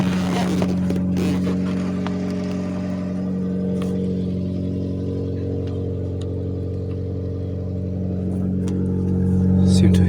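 An Alfa Romeo 156 Twin Spark engine with a bad idle and a suspected exhaust problem runs at a steady, even idle hum for about ten seconds, with someone talking over it at times.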